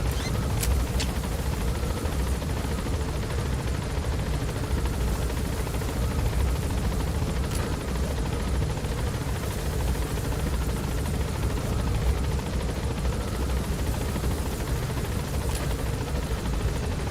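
A helicopter in the video game Metal Gear Solid V: The Phantom Pain gives a steady, loud rotor drone for the whole stretch, with a few faint clicks and no talk.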